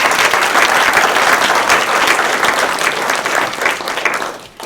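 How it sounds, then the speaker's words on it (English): Applause for the volunteer board of a county chamber of commerce at an evening candidate forum for county treasurer: a steady, dense crowd clapping in a hall that holds at full strength for several seconds, then tapers off near the end. "please give them a round of applause"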